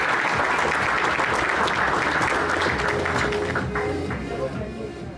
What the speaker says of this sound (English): So congratulations and a round of applause.